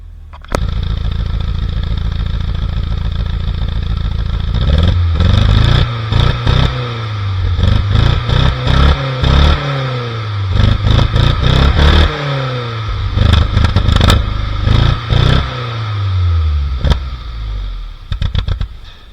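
A Mini Mayfair car engine runs on choke, starting with a steady loud idle before a series of sharp revs rise and fall in bursts, alone without talk.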